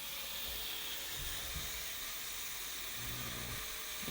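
A pressure cooker venting its steam release, giving a steady, broad hiss that holds at an even level throughout, with faint low rumbles underneath and no voices.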